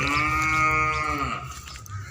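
A cow moos at a livestock market, one long, loud, close call lasting over a second, then fading into low background murmur.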